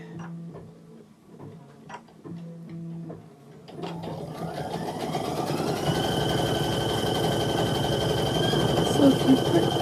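A sewing machine stitches fabric pieces for a petit fours quilt project, starting with a few short bursts and then running steadily and loudly, with faint talk early on.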